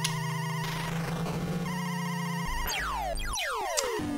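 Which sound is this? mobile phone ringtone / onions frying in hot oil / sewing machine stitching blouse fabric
mobile phone ringtone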